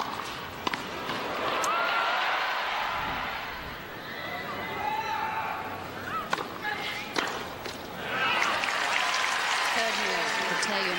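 Crowd applause at a US Open tennis match, Mauresmo versus Serena Williams fourth round, a broad sustained clapping from many spectators rising and falling across the stands, with a commentator talking over it.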